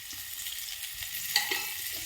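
Oil sizzles and crackles faintly in a frying pan for a couple of seconds, a steady quiet hiss with a few small pops and no voices.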